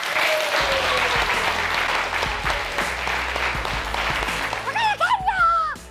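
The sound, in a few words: audience round of applause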